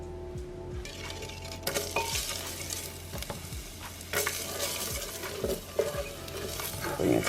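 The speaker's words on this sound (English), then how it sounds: "Now we're gonna go ahead and add in our butter." Butter melts in a pot for broccoli cheddar soup, giving off a soft steady sizzle while a utensil stirs and scrapes, with occasional clinks of metal against the pot.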